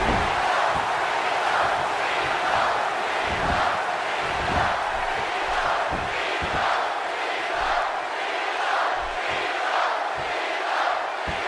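A dense arena crowd in the WWE 2K16 wrestling video game roars and cheers continuously at steady loudness, with chanting swells throughout.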